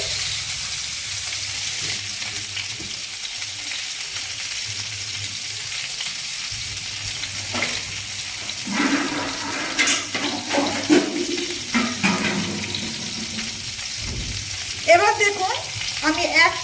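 Eggplant slices laid into lightly heated oil in a pan over a low flame, a soft steady sizzle with scattered crackles and pops that grow busier toward the end, no talk.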